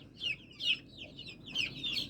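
A 28-day-old desi chicken clucks in short repeated bursts while held for beak trimming, the calls close and moderately loud over a low steady background hum.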